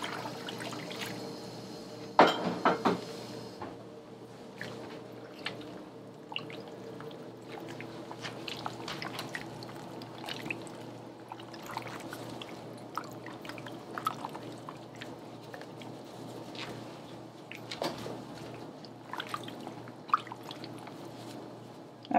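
Meat is washed with water in a pot, giving close sloshing, dripping and squishy handling sounds, with a sharper splash early on and intermittent trickles afterward.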